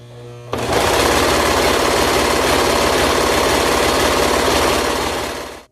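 A serger runs steadily and loudly, stitching the crotch seam of harem pants with a dense rapid mechanical whir. It starts abruptly after a brief hum and holds for about five seconds before cutting off.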